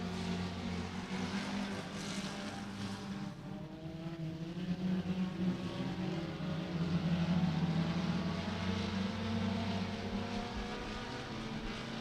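Four-cylinder race cars running at Beckley Motor Speedway, engines droning at a distance in a steady blended roar that swells slightly as the pack passes, then eases back.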